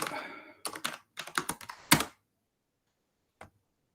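Computer keyboard typing of git commands, a quick run of clustered, close keystroke clicks for about two seconds, then quiet and one final isolated tap.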